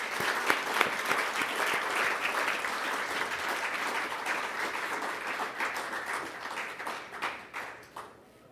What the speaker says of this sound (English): Let's give another round of applause for the full panel.